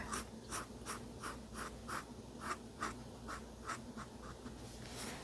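Markers squeak and scratch across paper in quick, regular strokes while a frog is drawn, close and fairly quiet over a faint room hum, with no one talking.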